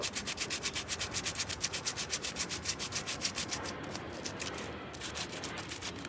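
Sandpaper wrapped on a sanding block rubbing back and forth in a quick, even rhythm of raspy strokes, close and clear, before settling into a softer continuous scrape.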